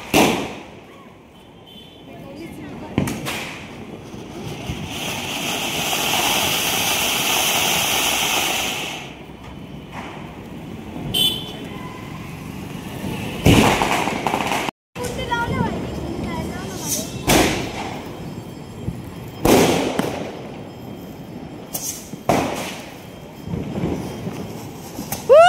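Diwali firecrackers and fireworks burst in a series of sharp, irregularly spaced bangs, with a stretch of hissing crackle early on and voices talking in between.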